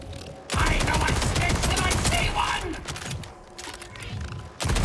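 Ripper gun from Borderlands 4 blasting in shotgun and SMG modes, a dense, loud burst of rapid gunfire that runs almost continuously for about four seconds, briefly easing midway before surging again, with no voices over it.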